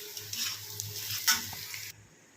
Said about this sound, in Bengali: পেঁয়াজ আদা রসুন কষানো হচ্ছে